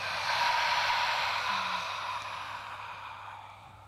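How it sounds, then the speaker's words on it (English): A forceful, breathy exhalation through the mouth during a yoga breathing exercise, one long close airy rush that fades over several seconds. "we're gonna exhale through the mouth"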